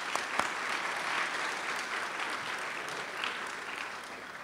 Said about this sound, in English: Give Keith a round of applause.